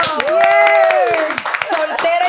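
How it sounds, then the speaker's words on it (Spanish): Scattered hand clapping for a radio host in a small studio, sharp close claps heard beneath lively talking and a sung or drawn-out exclamation. "¡Un aplauso!"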